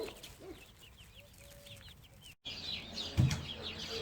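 Baby chicks in a small heated brooder coop, cheeping in soft repeated peeps with a few longer trills, fairly close but quiet, cut by a brief gap and a bump partway through.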